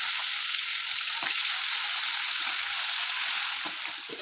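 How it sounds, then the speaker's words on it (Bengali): Fish frying in a hot wok, a loud continuous bright sizzle with occasional faint stirring clicks, fading slightly at the end. "কড়াইটা ভালো করে গরম হলে মাছটা আর কি সুন্দর ভাজা হয়।"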